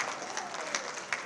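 Applause from a crowd at a Mansfield, Texas civic State of the City address: a steady, dense wash of many hands clapping, fairly distant and moderate in level, with a few sharper claps poking out.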